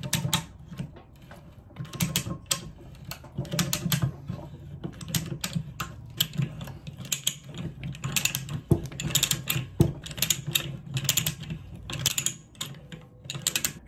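A pipe threading machine runs in reverse, its die backing off a metal pipe and breaking loose metal curls, giving a steady close run of dense, irregular clicking and ratcheting with no talk.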